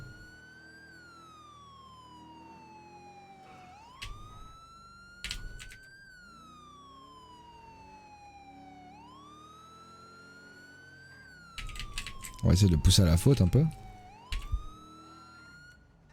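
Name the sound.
police car siren in a video game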